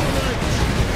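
A loud, dense blast of explosion noise from the game Space Marine fills the whole moment, with a heavy, rumbling low end and battlefield clutter.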